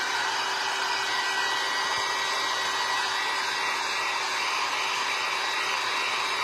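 A hair dryer blows steadily on a wooden snowman cutting board for the whole stretch, a constant close whoosh with a fixed hum and no talking.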